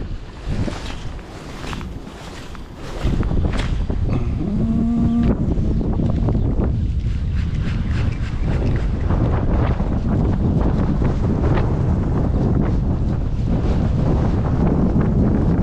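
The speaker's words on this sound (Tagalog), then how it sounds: "malakas ang hangin talaga." Strong wind roars steadily across the microphone at a beach while fishing, with heavy rumbling gusts over what sounds like open water, loud and continuous throughout.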